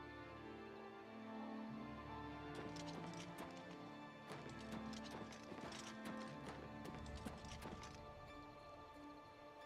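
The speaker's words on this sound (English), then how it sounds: "Let's park the horse over here by the tree." Horse hooves clip-clopping in the remastered Elder Scrolls IV: Oblivion video game, a steady, fairly close run of hoofbeats with a short burst of quicker, louder steps in the middle.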